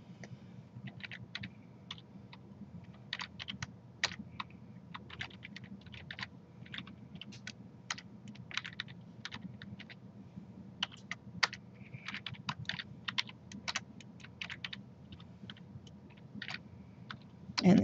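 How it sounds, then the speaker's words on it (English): Fingers type coordinates into a computer keyboard, producing quick irregular clicks that run steadily throughout and close with a heavier press of the enter key. "I'm typing in the coordinates and hitting enter."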